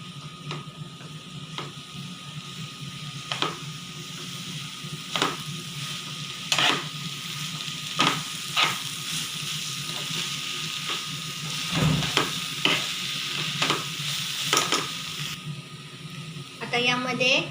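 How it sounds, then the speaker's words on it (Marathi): Soybean kheema being stirred and fried in a pan: a steady, low sizzle runs throughout, punctuated by regular sharp scraping clicks of a spatula against the pan, fairly close and moderately quiet. "आता यामध्ये आपण हे सोयाबीनचा जो खिमा केलेला आहे तो टाकून घेऊया। त्याला चांगलं परतून घेऊया।"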